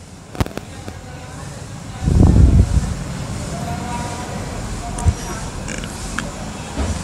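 The hood of a 2019 Honda Amaze is shut with a short, dull thump, set against faint outdoor background noise and a few small clicks.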